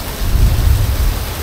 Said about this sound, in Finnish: nyt se sade osuikin sitten kohille